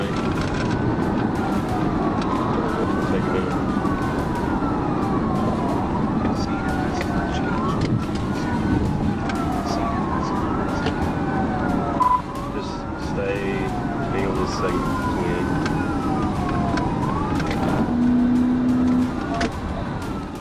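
Georgia State Patrol police sirens wail during a traffic chase, a loud, steady rising-and-falling cycle repeating over heavy road and engine noise, with a brief spoken voice partway through.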